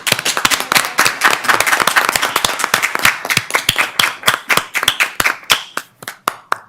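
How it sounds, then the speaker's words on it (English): A round of clapping from a modest group at a school board meeting, close and crisp, rapid claps thinning out into a few scattered final claps. "Another round of applause."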